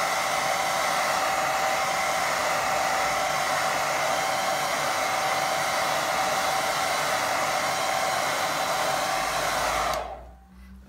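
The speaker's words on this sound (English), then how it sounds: "In fact, let me get drier." A hair dryer blows steadily on a watercolour painting, a loud continuous whirring hum that runs unbroken for about ten seconds, then cuts off abruptly.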